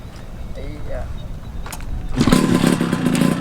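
A Honda Nova RS two-stroke motorcycle rides by with a faint engine at first, then its exhaust bursts in loud and rasping for the last second or so.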